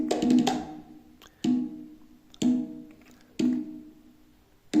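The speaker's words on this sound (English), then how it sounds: "And this is the congas." Three layered conga samples from a Cuba library strike as single hits about once a second, each a bright slap with a short ringing tone that fades before the next, played alone.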